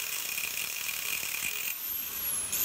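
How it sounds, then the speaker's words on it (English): Angle grinder with a cutoff disc cutting grooves into metal for a rope twist on blacksmith tongs, producing a sustained high-pitched screech that runs unbroken for a few seconds. "I decide to use a cutoff disc on my angle grinder"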